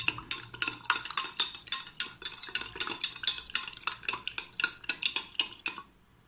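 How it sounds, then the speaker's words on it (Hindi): A metal spoon stirs salt into a glass of water, making quick, rhythmic clinks and scrapes against the glass. The stirring is close and steady, then stops and leaves silence. "इसमें सॉल्ट को मिक्स करते हैं"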